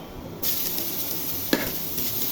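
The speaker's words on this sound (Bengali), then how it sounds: "ভেজে নিব, হালকা ভেজে শাক দিয়ে দিব" Chopped onions hit hot oil in a pan over browned garlic while cooking red amaranth greens, setting off a sudden loud, steady sizzle that keeps hissing, with one sharp scrape partway through.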